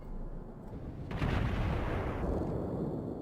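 A battleship's main guns fire a salvo in World of Warships (Arkansas beta), a heavy deep boom rising out of a low rumbling game soundscape and rolling on loudly.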